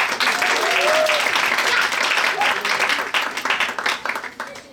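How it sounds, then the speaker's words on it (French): Audience applause at a children's musical comedy show greeting the Beauregard family: dense, continuous clapping that stays loud, then thins and fades toward the end, with some voices mixed in. "Veuillez faire un tonnerre d'applaudissements pour la famille Beauregard."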